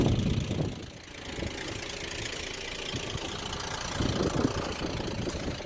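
A Volvo XC90 engine idles close by with a rough, knocking clatter that sounds like a diesel, a continuous rattle that swells and dips slightly.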